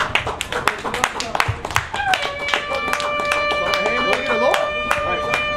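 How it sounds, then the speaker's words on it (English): A live audience claps in short, uneven bursts, fairly close, with someone talking over the applause. "let's get a Lord a hand, man. Clap it up."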